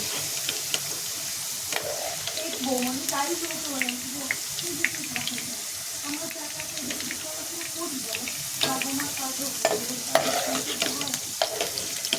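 Potatoes sizzling in hot oil in a pan while a utensil stirs and scrapes them, a steady close crackle broken by repeated clatters, with a voice speaking faintly under it.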